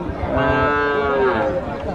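A cow moos in one long, loud, close call lasting about two seconds at a Rajshahi cattle market where thin, bony cattle and calves are sold.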